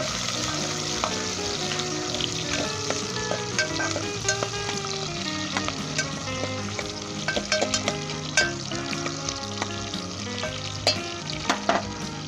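Mutton sizzling and frying in a cooking pot for aloo bukhara (plum) mutton, with steady loud hiss and repeated scraping stirs of a spoon against the pot, no talking.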